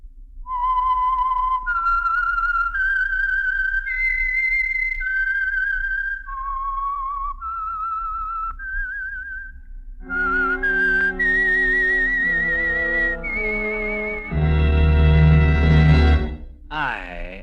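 Whistled theme identifying The Whistler radio drama, a clear lone melodic whistle of sustained notes, followed by an orchestral sting that swells loudly at the end.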